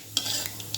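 Cumin seeds hit hot oil in a heated wok with a bright, crackling sizzle. A few sharp clicks of stirring punctuate the hiss in a brief, close burst.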